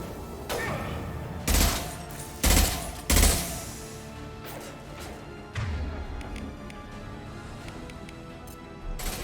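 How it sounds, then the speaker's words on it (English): A scoped rifle firing in the Mass Effect 2 video game, three heavy, loud booming shots about a second apart, then a softer thud and a few faint impacts under a steady game hum. "This'll put him down! Firing now."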